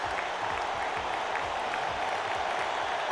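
Steady crowd applause and cheering fill a festive scene in the video game Radiant Tale, a dense, even wash of clapping held at constant level for the whole stretch.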